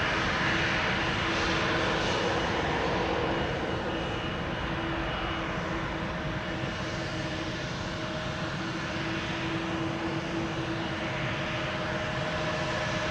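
A seven-year-old KLM airliner, first flown January 2018, departs Amsterdam Schiphol for Stavanger, a steady, moderately distant engine roar with a sustained hum, continuous and unchanging throughout, without voices.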